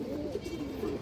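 A rare old-breed red-geared Bagha female pigeon gives soft, low cooing in a steady murmur, quiet and close, with no voices.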